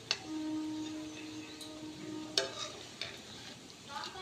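Bengali sweets frying gently in oil over low heat, a soft low sizzle with occasional stirring clinks and light scrapes, quiet and close.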